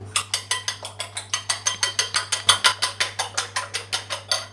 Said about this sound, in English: I turn on the fire now, not very strong, like a medium fire.